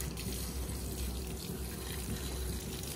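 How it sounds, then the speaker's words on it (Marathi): Water runs steadily outdoors as items are being washed, a continuous faint splashing flow with no speech. "नीट पाणी मार रा"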